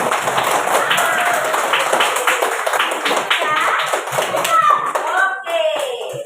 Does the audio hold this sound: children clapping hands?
yes